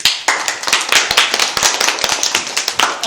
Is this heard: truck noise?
no